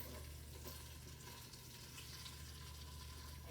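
Mongolian beef meat frying in sesame oil in a pan, a steady, dense sizzle with a constant low hum underneath, holding even throughout without talk.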